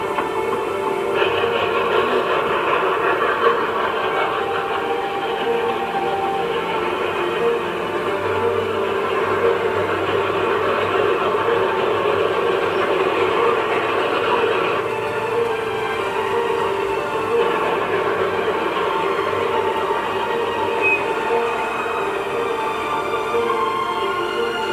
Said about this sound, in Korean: 그리고 승객을 태운 기차는 무사히 다리를 건너게 됩니다.